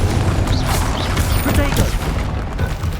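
Confringo fire spell blast in Hogwarts Legacy, booming bursts and crackling impacts amid game combat effects, with a voice calling out over the action.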